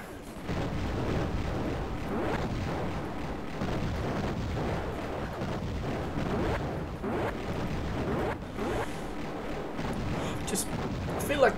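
Mega bomb blasts in the vertical shooter game Raptor: Call of the Shadows, a continuous rumbling barrage of booms and crackling explosions, steady and loud throughout, with a person talking over it.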